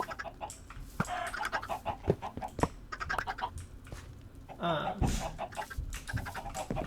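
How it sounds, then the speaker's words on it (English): Chickens cluck and squawk on a farm in a video game, with a busy cluster of calls that rises and falls under a steady game ambience and some background voices. "Then here was my chicken farm."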